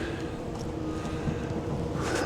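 A breezy morning wind blows at the Potawatomi Observation Tower, 75 feet up, as a low, steady, rumbling buffet with gentle gusts, fairly faint and with no talking.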